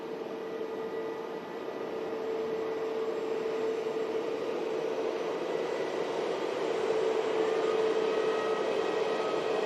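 Aircraft brake cooling fans whir at Manchester Airport with a steady, continuous tonal drone and broadband rush. The sound holds constant throughout, with no speech.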